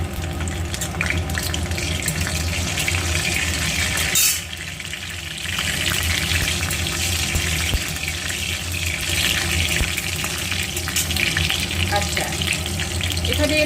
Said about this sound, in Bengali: সর্ষের তেলে আমি এখানে দিয়ে দিচ্ছি কালো জিরে